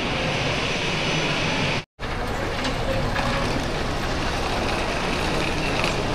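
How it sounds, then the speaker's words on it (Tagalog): Steady aircraft engine roar fills an airport apron as passengers board, loud and continuous with one brief cut to silence. "Ay, aeroplano."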